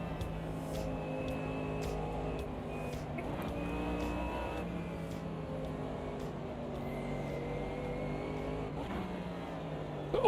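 A Lamborghini race car engine in the Automobilista 2 sim racing game holds a steady, droning whine, its pitch sliding up and down through gear changes.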